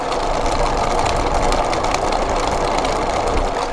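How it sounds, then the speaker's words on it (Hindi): An Usha table fan that has jammed runs noisily, giving a steady, loud mechanical whir and rattle with no break and no talking. "ये मेरे पास में उषा कंपनी का टेबल फैन है"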